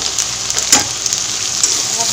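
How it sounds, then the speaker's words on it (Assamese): Mustard seeds crackle and sizzle in hot oil in a pan: a steady close frying hiss with scattered small pops, fairly loud throughout. "সৰিয়হখিনি ফুটিলে"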